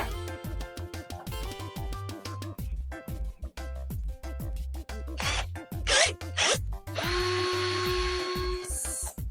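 A 48V cordless drill whirs in short spurts, starting and stopping repeatedly, its pitch rising and falling, ending in a longer high-pitched spin; its chuck runs out of true.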